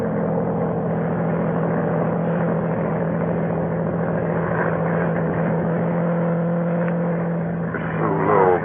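A monoplane propeller aircraft drones low overhead in a vintage radio drama, its engine a steady, loud rumbling hum that holds for several seconds before a brief swell near the end.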